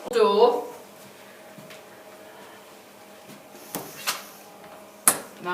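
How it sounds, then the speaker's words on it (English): An indoor pull door is opened during sighted-guide practice, giving a few faint clicks and a sharper latch knock near the end, while people talk quietly around it. "We're going to do a pull door"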